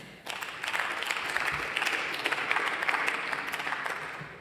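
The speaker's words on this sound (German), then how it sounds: "Applaus" Applause fills a parliament chamber, breaking out suddenly and holding as a steady, dense clatter of many hands for several seconds.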